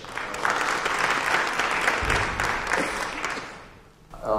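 Audience members at a village trustee debate applaud the participants, a full round of clapping that swells, then fades out before a voice begins.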